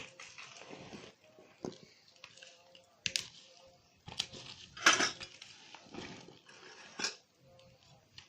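A spoon works carrot pickle with spices and vinegar in a bowl, giving irregular clinks, scrapes and rattles of metal on dish at close range, with one louder clatter midway, and no talk.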